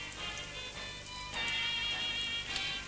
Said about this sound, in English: Bloody rain.